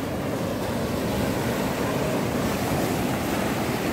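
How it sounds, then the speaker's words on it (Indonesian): Ocean surf pounds Wediombo beach in Gunung Kidul, a steady, dense roar of breaking waves heard close and continuous with no voices. "Disambut dengan deburan ombak."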